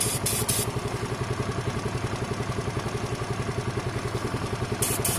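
Sinnis Harrier 125cc motorcycle engine idling during a spray test for leaks around the carburettor, a steady close rhythmic putter with even pulses and brief hissing bursts of spray at the start and end.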